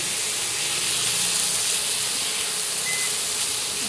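Shrimp sautéing in a hot pan with bitter gourd, a loud, steady sizzling hiss that runs unbroken and close throughout.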